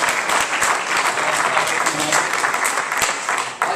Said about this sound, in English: Let's give a round of applause for them putting this together.